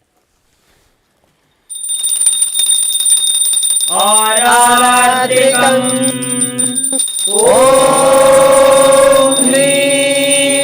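A hand bell is rung rapidly and continuously during an arati offering to Swamiji, producing a bright ringing drone. A voice chants a mantra over it, with the chanting growing louder in the second half.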